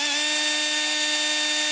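A battery-powered electric air compressor runs with a steady, loud, high motor whine and constant buzzing tone, close by and unbroken for the short span.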